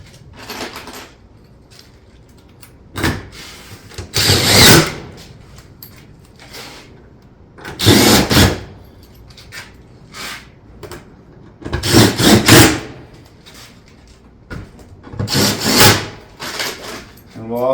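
A stone-coated roof vent panel is fastened through its front nose on a roof, with several separate bursts of loud driving and scraping noise, each lasting about a second, between quieter stretches and some speech.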